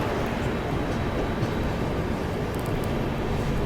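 The Prayagraj Express, hauling blue ICF coaches, departs Chunar Junction on the neighbouring track, heard as a continuous rolling rumble of wheels and carriages, steady and fairly close, with no talk.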